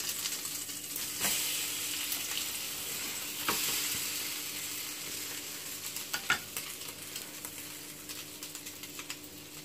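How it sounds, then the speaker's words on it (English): Slices of ham and cheese French toast fry in a pan with a steady close sizzle and scattered small pops and crackles throughout, no voices. "fry the both sides"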